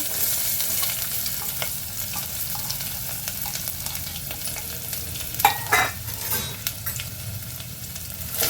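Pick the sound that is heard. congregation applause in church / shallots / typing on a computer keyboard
shallots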